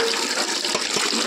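Tap water running steadily and loud close by while something is rinsed, a continuous splashing rush with a couple of brief sloshing dips, no voices.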